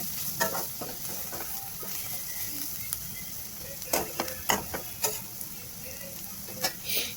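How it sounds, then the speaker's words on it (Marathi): Spices with coriander powder sautéing in oil for a green pea masala, a gentle steady sizzle with intermittent clicks and scraping stirs of a spoon, fairly faint and close. "मसाले थोडे तेलात परतून घ्यायचे"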